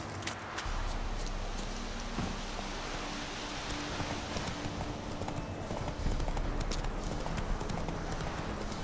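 Horse hooves clip-clop in The Witcher 3: Wild Hunt, a steady rhythmic trot under a dense wash of broadband game noise, continuous throughout with no talking.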